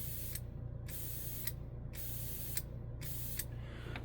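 Steady airbrush hiss driven by a small compressor, with rhythmic pulsing bursts about every half second over a constant low motor hum, close and fairly quiet.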